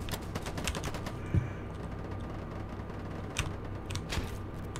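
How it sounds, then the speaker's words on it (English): Rapid gunfire in a video game, a steady rattle of bullets fired in quick succession with a few louder individual shots standing out over a constant mechanical background. "Bunch of bullets."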